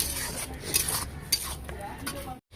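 Spice masala with Kashmiri chilli powder and salt being stirred and sautéed in a pan, close scraping and rubbing of a spatula over a low sizzle, ending in a brief silence.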